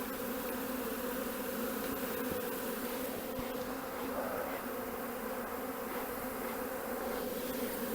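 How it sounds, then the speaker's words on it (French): Bees buzz continuously around a hive during swarming, a dense steady hum close by with no voices. "Il y a un peu d'abeilles dessus, pas des masses."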